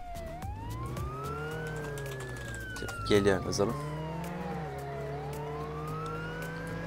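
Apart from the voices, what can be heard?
police car siren in Roblox Jailbreak video game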